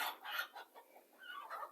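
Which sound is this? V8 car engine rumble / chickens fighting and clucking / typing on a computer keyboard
chickens fighting and clucking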